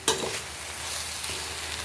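Food stirred and sizzling in a frying pan just after lemon is squeezed in, a close scraping stir over a steady crackling fry in a short burst.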